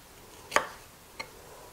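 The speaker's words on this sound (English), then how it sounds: "Gonna cut it in half. Make some thick slices" A kitchen knife cuts food into thick slices for a slow cooker chicken and stuffing dish: two crisp chops against a cutting board, the first sharper and louder, the second softer about half a second later, in a quiet room.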